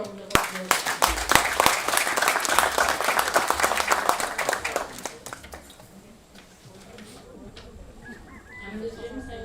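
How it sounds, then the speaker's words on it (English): Dense applause from an audience honouring a guest at the commissioning ceremony of a health and wellness centre, with sharp close claps over a broad roar that fades out after about six seconds, leaving murmured voices. "Can we give him a round of applause?"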